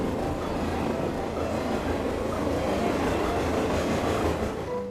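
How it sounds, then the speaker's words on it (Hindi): Train coming into a station and stopping: a steady, full rumble of rolling rail cars with broadband hiss, loud and continuous throughout with no voices. "इतने में ट्रेन एक स्टेशन पर रुकी।"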